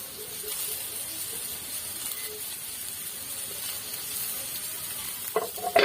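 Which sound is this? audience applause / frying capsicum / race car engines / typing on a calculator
frying capsicum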